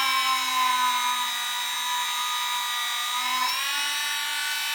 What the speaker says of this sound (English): It is harder the material, ceramic, but definitely it can drill in a point